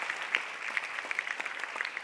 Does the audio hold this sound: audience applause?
yes